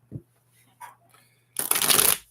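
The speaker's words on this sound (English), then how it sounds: "I'll go ahead and shuffle these again" A deck of playing cards being shuffled: a few faint taps and rustles, then a brisk, loud riffle lasting under a second, close up.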